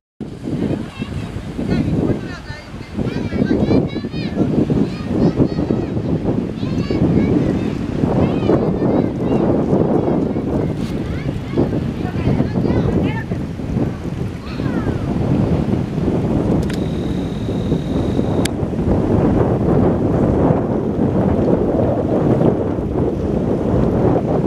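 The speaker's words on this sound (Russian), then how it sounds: "Ветерок такой есть на пляже небольшой." Wind on a beach in southern Spain buffets the microphone in a loud, steady rumble, with surf and the bustle of the beach beneath it and someone talking at times.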